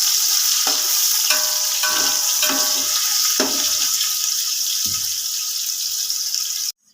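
Steady sizzling of frying in about a cup of Dalda ghee in a pan, with occasional stirring clinks and spatters over a constant hiss that cuts off abruptly at the end.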